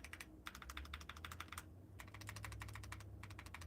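Typing on a mechanical keyboard with freshly lubed switches: rapid bursts of close, crisp key clacks in clusters separated by brief pauses, with a low steady hum underneath.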